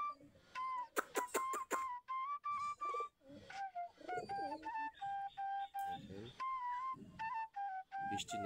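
Domestic local pigeons kept in coops on a cloudy day give repeated soft cooing and whistly calls, close and clear, in a steady rhythmic series of short bursts with brief pauses between them.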